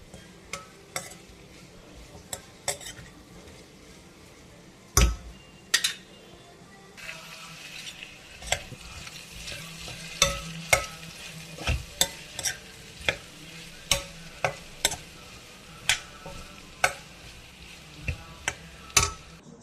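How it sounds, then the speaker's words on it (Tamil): Potatoes cook slowly in a covered pan for potato rice. A soft, low sizzle runs underneath, broken by sharp, irregular taps and clinks, likely the lid or a utensil against the pan, with no talking. "நல்லா ஸ்லோவில் வச்சு வேகட்டாங்க. நல்லா மூடி போட்டு வேக விடுங்க. நல்லா வேகட்டாங்க உருளைக்கிழங்கு."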